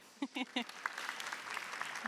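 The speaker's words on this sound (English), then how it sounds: "give her a really, really loud, warm, whooping round of applause as she comes onto stage" Audience applause for a keynote speaker coming onto a conference stage, a faint distant patter of clapping that follows a few spoken words.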